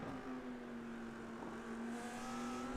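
Audi race car engine in a racing video game at Monza, humming at a steady high pitch, faint and distant, with a constant drone and no talking.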